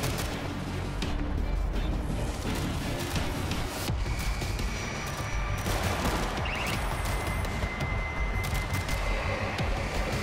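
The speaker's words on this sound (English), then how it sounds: "Auto turret running." An auto turret in the zombie shooter World War Z firing a loud, sustained barrage of rapid gunfire that runs unbroken through the whole stretch amid game noise.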